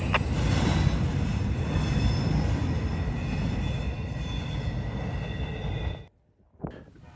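CSX freight train rolling past, a loud steady rumble of wheels and cars with squealing and metallic tones, continuing for about six seconds before cutting off abruptly, followed by a faint brief sound.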